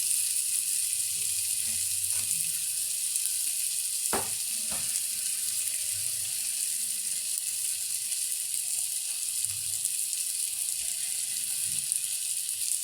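Ground meat (giniling) frying in a pan gives a steady, close sizzling hiss, with a couple of sharp clinks from stirring partway through. No one speaks.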